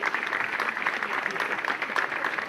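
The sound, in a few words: applause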